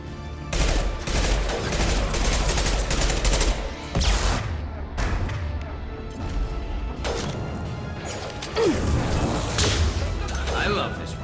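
Rapid rifle fire from the Mass Effect 2 video game, a loud dense burst of repeated shots running almost continuously with brief gaps, mixed with crashing impacts and a voice talking over it.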